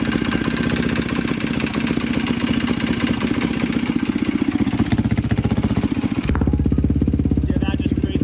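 A Yamaha YFZ450 ATV engine chugs steadily at close range with its exhaust covered, a rapid, even putter, its tone shifting and muffling toward the end.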